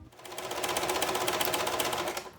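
A small, inexpensive sewing machine whirs in a quick, even rhythm of rapid stitching, close by, starting and stopping within a couple of seconds.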